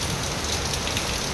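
Heavy monsoon rain pours down in an even, hissing patter, close and unbroken, with water pooling on the surfaces below.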